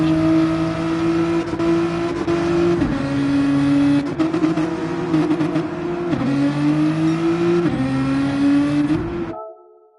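Race cars in a racing video game at the Catalunya circuit, a Bugatti and an Octane, engines droning steadily at high revs with repeated gear shifts lifting and dropping the pitch, loud and close, then cutting off abruptly at the end.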